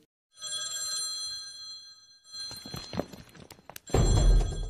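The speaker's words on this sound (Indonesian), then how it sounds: "mendadak ponsel Joy yang dibawa Sidhu justru berdering" A mobile phone rings with a bright, steady electronic tone for about two seconds. It is followed by rustling, thuds and a loud crash in an action scene.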